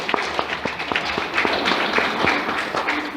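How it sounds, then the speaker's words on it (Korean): A church gathering's audience gives a short round of light applause, scattered claps patting along for about three seconds at moderate volume. "우리 박수 한번 칩시다."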